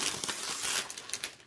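Heavy plastic sleeve crinkling during an unboxing, a continuous close rustle and crackle of handled plastic that tapers off, no talk.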